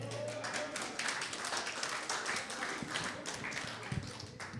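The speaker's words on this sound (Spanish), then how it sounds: "Dense un fuerte aplauso." An audience applauds at a talk on addictions, a steady patter of clapping at moderate level that runs for several seconds and fades slightly at the end.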